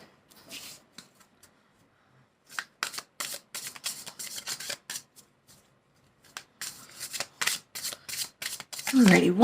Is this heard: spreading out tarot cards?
yes